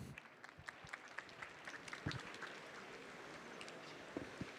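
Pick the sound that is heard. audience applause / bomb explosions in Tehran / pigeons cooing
audience applause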